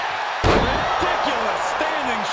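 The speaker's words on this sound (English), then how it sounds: "Scooped up to the wall slam." A heavy wall slam hits with a sharp, booming thud in the WWE 2K22 wrestling video game. A commentator's voice runs over the impact and the arena noise that follows.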